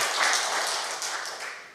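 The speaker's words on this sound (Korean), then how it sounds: "그런 의미에서 박수 한번 쳐주세요" Listeners at a spirituality lecture and Q&A give a priest a short round of applause, a soft, even wash of clapping that fades gradually over a couple of seconds.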